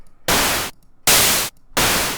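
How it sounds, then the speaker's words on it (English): A synthesizer emits pink noise in three loud bursts of steady hiss, each about half a second long and separated by short near-silent gaps. "And then pink noise is basically the same as white noise,"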